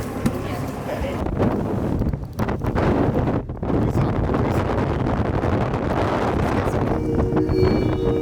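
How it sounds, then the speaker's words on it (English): Strong wind buffets the microphone while a boat's engine drones steadily underneath as it travels between islands, with a brief voice near the end. "Right now we are on a boat, just going to all the islands"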